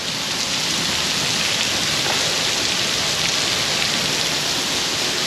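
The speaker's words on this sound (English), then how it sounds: "probably would have missed this rain" Rain pouring outside a garage, a loud, even, unbroken wash of falling water and drops on surfaces, steady for several seconds with no voices.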